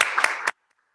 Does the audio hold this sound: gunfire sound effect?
no